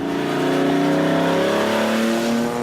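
A gull-wing supercar accelerates around a corner, its engine note rising steadily in a loud, continuous rev with a faint hint of tire noise, no voices present.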